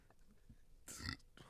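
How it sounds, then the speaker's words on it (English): One short, quiet burp, close by, comes after drinking ginger ale, with faint low rustling around it. "The ginger ale's making me burp."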